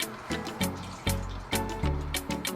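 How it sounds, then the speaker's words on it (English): Beer poured into a glass, a close, splashy stream of liquid with rapid bubbly pulses and gurgles over a couple of seconds. "Right now, we're about to pour some beer and tell you how it tastes."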